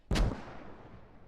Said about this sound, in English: Keep them mortars coming, Zim.